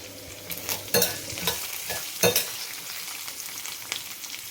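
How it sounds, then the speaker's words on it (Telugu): Onions, peanuts, coriander seeds and cumin fry in a pan with a continuous soft sizzle. A spoon stirs and scrapes through them in intermittent bursts, close up and without talk. "ఉల్లిపాయలు వేరుశనగపప్పు ధనియాలు జీలకర్ర అన్నీ కొద్ది కొద్దిగా వేసి ఇలాగ ముందు కొద్దిగా పచ్చివాసన పోయేదాకా వేయించాలన్నమాట"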